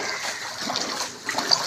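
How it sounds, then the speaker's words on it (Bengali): Floodwater after heavy rain flowing in a current past homes, a continuous rushing, splashing wash with small surges, moderately close with no talk. "দেখো স্রোত, দেখো জলের স্রোতটা শুধু দেখো।"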